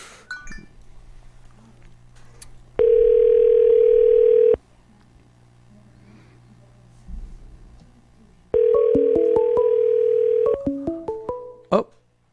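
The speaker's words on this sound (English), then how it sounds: "We're going to call Jack and see what's up with him." Two steady telephone dial tones, each lasting about two seconds with a gap between, are heard while a call is placed. Brief dialing beeps follow the second tone, and talk is faint in the background.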